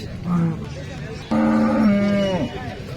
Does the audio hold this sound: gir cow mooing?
yes